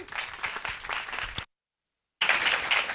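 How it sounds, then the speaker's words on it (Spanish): An audience applauds at a film industry presentation. The steady clapping breaks off into a brief silence and then resumes just as densely. "Un aplauso."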